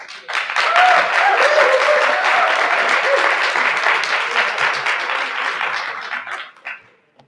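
Audience applause at an educators hall of fame ceremony, a full sustained round of clapping that swells quickly, holds for several seconds, then tapers off with a few stray claps at the end.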